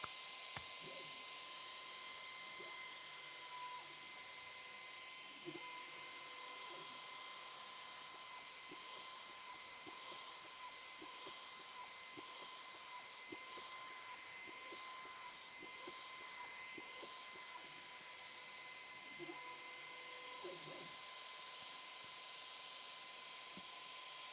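A Mecpow X5 Pro 33W laser engraver runs with a steady high tone and constant fan hiss, broken by faint repeated clicks and small movement sounds.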